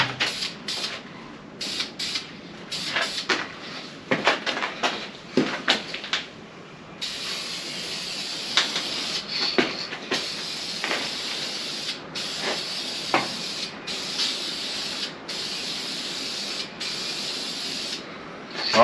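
Aerosol can of Duplicolor Metalcast Blue spraying valve covers for a 1977 Ford F150, a steady close hiss in long passes broken by brief pauses, with a few clicks and rattles at the start.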